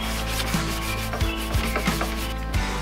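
A gunked-up gas grill part is scrubbed with short, rapid strokes, a close, gritty rubbing with a few sharper knocks and no talking.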